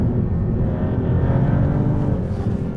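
Maserati GT2 Stradale race car pulling hard out of a corner, its engine a loud, steady close-up roar that holds throughout with no voices over it.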